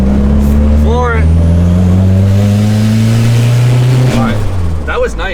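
A turbocharged LS-powered car is floored at full throttle, its engine roaring loud and close as the pitch climbs steadily through a long pull, with brief chirps and a voice heard faintly over the roar.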